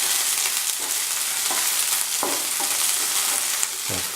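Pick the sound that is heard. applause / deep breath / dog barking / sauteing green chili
sauteing green chili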